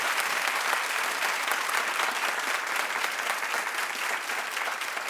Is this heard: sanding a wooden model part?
no